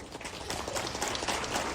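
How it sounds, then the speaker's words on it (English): Parents applaud their children at a school motivational workshop, a steady wash of scattered clapping from a room of people, moderately faint and continuous throughout. "Parents, please give them a round of applause."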